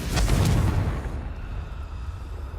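Fiery Confringo blast spell cast in the Hogwarts Legacy game, a loud rumbling burst at the start that fades into a sustained low roar, with no talking.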